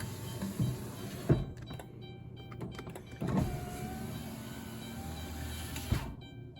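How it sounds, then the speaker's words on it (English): Power window motor in the door of a Chrysler Town & Country van, a quiet whirring hum with a few clunks and clicks as it runs and stops, close by, no talking. "Don't forget to get this little plug in here. That's for the power window. And doing the test. It's working."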